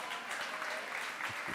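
A church congregation applauds in a dense, continuous wash of clapping, with voices mixed in under it.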